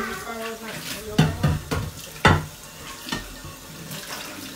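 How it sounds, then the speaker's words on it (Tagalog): Tap water runs into a sink as something is washed, a close, continuous flow broken by several sharp clatters and splashes, with a person speaking at times. "Hugasan ko lang ito para wala na akong gagawin mamaya."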